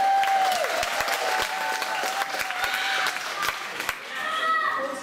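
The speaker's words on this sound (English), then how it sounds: "Give yourselves a big cheer, come on." A theatre audience at a Hansel and Gretel pantomime bursts into sustained applause and cheering, dense clapping filling the space with a few sharp individual claps and a voice over the top.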